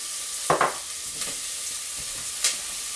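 Food caramelizing in a hot pan gives a steady, bright sizzle, broken by a few short stirring scrapes and clinks.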